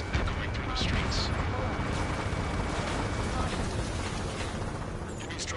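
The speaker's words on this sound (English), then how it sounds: "Gunfire and the roar of jets echoing through the streets." A dense, rumbling roar of distant video game gunfire, jets and heavy booms echoing through streets runs throughout, with occasional sharper cracks rising above a steady low-end drone.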